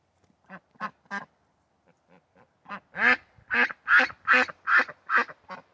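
Breeding ducks quack loudly in a rapid, laughing series, a few short calls first, then a burst of about nine harsh quacks close by, with no talk over them.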